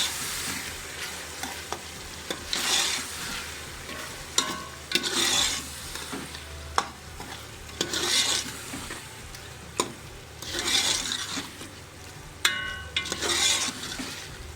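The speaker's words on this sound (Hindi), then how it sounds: "मसाले के अंदर 2 से 3 मिनट के लिए स्पाइसेस को हम अच्छे तरीके से फ्राई कर लेंगे" Spices fry in a masala for arvi curry as a spoon stirs the pan, a constant close sizzle broken by repeated scraping stir strokes, with no talking.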